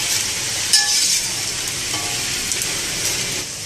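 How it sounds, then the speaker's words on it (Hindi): Edible gum (gond) pieces frying in hot ghee give a steady, soft sizzle with faint crackle, plus a brief clink of a utensil near the start. "रह गई 4 गूंद, इसको भी मैं ना फ्राई कर लेती हूँ।"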